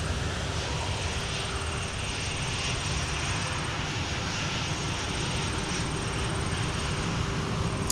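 An airliner arriving at Minneapolis from Amsterdam roars steadily at a distance, a broad continuous engine rush with a thin high whine holding constant.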